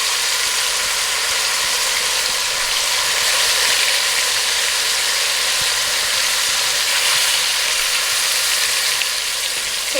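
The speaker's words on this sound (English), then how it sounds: "I'm gonna caramelize these first before I start steaming them down." Oxtail pieces caramelizing in hot oil for Jamaican oxtail stew give off a steady, dense sizzle that holds at an even level throughout, close and continuous with no talk over it.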